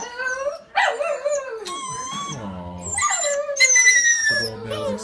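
Newly neutered puppies in a litter of five whine, yip and howl in high, wavering cries as they wake from anesthesia, several voices overlapping close by.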